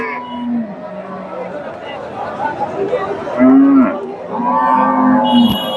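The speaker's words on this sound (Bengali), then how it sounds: "ফ্রিজিয়ান জাতের গাভী" Friesian dairy cows moo several times nearby at a cattle market in Bogura, Bangladesh, long low calls rising over a bustling crowd chatting in the background.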